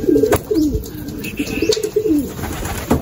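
A checkered pigeon lands and coos nearby, giving a series of soft, throaty rolling coos with a few faint chirps, loud and close, no voices.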